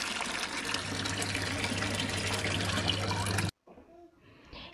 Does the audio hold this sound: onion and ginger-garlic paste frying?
no